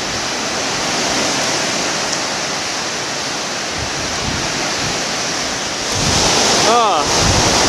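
Strong wind roars steadily through pine and birch trees beside a lake in the Boundary Waters, a loud continuous rushing gust near the microphone that swells late on, with a brief creak or bird-like chirp and no talk.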